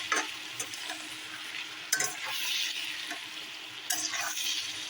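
Food frying in a generous amount of oil in a pan, a steady close crackling sizzle with sharper bursts of spatter and stirring around the two- and four-second marks.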